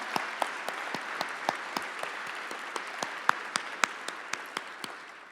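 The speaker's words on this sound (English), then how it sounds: "Let's give them a round of applause." Applause from an audience at a benefit honouring commissioners, a sparse, fairly quiet round of clapping in a large room, with a few sharp individual claps standing out over the steady patter.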